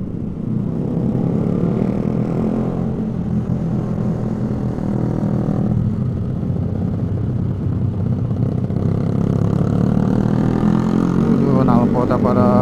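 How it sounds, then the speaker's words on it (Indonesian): Continuous loud rumble from motorcycles with loud exhausts at a motorcycle gathering in Sentul, a heavy low drone that barely varies, with voices talking faintly underneath. "Nalpotnya pada berisik-berisik banget"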